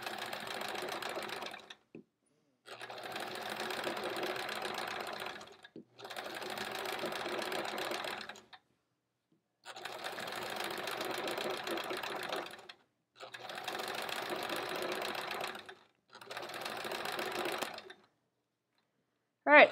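Sewing machine doing free-motion quilting on a quilt-as-you-go sampler block, running in six steady bursts of several seconds each with short pauses between, loud and close with no one talking.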